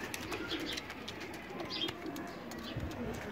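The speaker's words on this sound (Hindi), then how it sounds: "ए चार कबूतर है जी" Pigeons, Firozpuri male pigeons, coo softly in low, throaty murmurs, with occasional chirps and a steady background hum.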